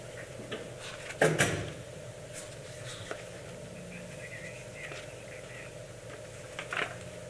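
A door opens or closes in a fire territory board meeting room, with a loud thump early on and a softer knock near the end against quiet room tone.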